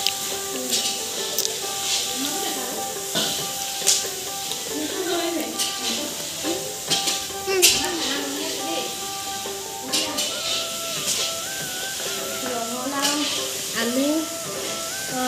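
Cabbage curry cooking in a temple kitchen: steady frying sizzle and hiss with stirring and occasional clinks of pots, while people talk nearby throughout.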